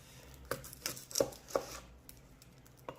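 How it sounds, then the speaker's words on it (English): A knife cutting through an onion on a cutting board, with a few distinct, quiet chopping thuds spaced irregularly in a calm kitchen. "We're going to start by taking off one end of the onion and cutting that in half."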